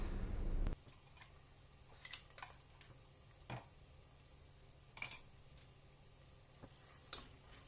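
Crushed ingredients and onions are sautéed in a pan for prawn biryani, with a brief burst of hissing followed by quiet stretches of scraping, and metal-on-pan clinks and taps at irregular intervals.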